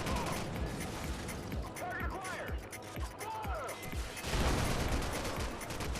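AK-47 fire in Call of Duty 4: Modern Warfare, several sharp gunshot bursts spaced through the scene amid game effects, with someone talking over them and a heavier burst of fire near the end.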